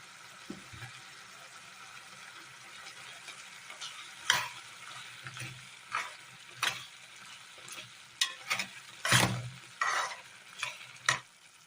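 Paneer frying in a pan in a Kerala-style curry, stirred with a spoon: steady low sizzle broken by sharp, irregular scraping strokes, close and fairly quiet, with no voices.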